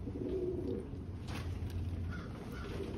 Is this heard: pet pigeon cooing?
yes